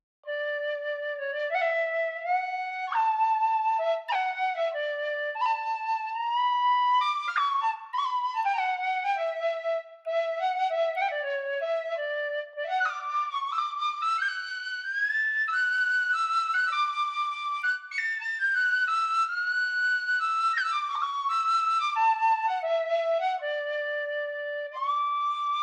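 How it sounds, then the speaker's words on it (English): An Irish folk whistle plays a lively, ornamented melody of quick bright notes and short trills, clear and alone with no other sound. "folk whistle"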